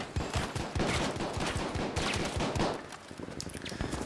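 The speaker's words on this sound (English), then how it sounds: "There's people shooting from the right side." Enemy gunfire in the Battlefield V video game crackles in a dense, continuous rattle of rapid shots for several seconds, steady and fairly loud throughout.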